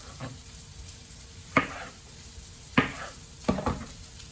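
A knife cuts tomatoes on a board, giving three or four sharp, separate thuds a second or so apart over a quiet background hiss.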